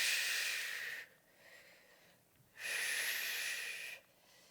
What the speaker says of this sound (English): exhale to row.